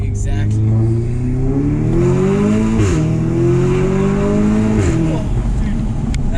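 A 2016 Audi S3 Sportback with a Milltek full exhaust and burble tune drones loudly and close, its engine note rising and falling through gear changes with a gruff, steady rasp throughout.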